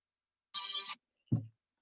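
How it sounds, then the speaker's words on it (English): A phone ringing in a quiet room: one short, bright electronic ring burst is followed by a brief low thump, then silence. "I had to wait for my phone to stop ringing."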